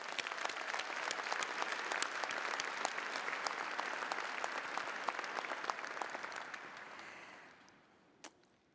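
A graduation convocation audience applauding, dense sustained clapping from a large crowd that fades away near the end, followed by one last isolated clap.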